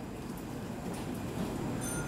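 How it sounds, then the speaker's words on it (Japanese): A Keisei Main Line local train bound for Narita Airport pulls into Keisei Narita station, giving a steady, fairly loud rail rumble with faint wheel noise running throughout, no voices. "京成成田に到着です。"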